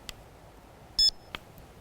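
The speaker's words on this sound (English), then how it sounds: "you get a little beep." A wireless flash remote is switched on and gives one short, high electronic beep, clear and close in a quiet room, between a few faint clicks.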